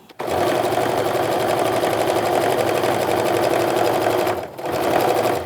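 Close, loud sewing machine stitching through a quilt block in one continuous run, with a brief pause near the end before the needle starts again.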